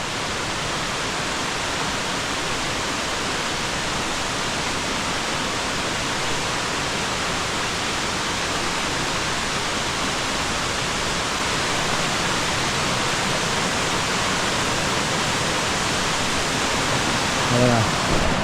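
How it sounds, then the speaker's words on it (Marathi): Constant roaring rush of water at Ojhar waterfall near Ovaliye village, loud and unbroken throughout, with faint voices briefly audible near the end. "पाणी असा खाली चाललं आहे सगळा"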